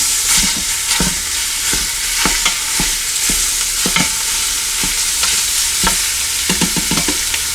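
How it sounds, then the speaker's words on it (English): Lean ground beef sizzles loudly while browning in a hot pressure cooker pot, a bright crackling hiss punctuated by scattered scraping stirs and pops, close up. "Let's hear some sizzling."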